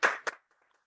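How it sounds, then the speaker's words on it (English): A brief burst of clapping from a meeting honoring two veterans, a few quick claps at moderate volume that fade out fast. "Let's clap for them for sure."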